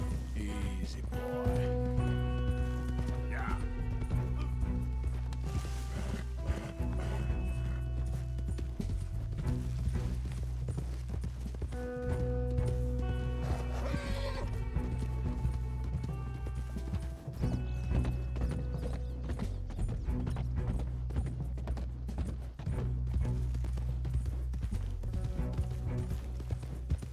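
Horse hooves clip-clop in a steady, continuous rhythm in a video game, accompanied by mechanical clicking and sustained tonal background sound.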